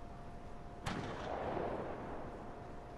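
A single sharp gunshot cracks in an online shooting game, followed by a rolling echo that slowly fades, heard alone and at moderate distance.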